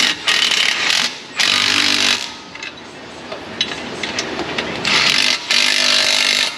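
Power tool tightening exhaust flange bolts on a 2007 Sierra 5.3, loud bursts of whirring broken by short pauses and quieter clanking between them.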